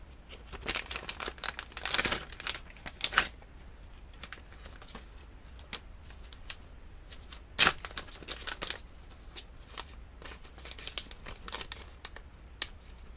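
A plastic evidence bag crinkles and rustles in short, irregular bursts, close and fairly quiet, with a few sharper crackles as it is handled.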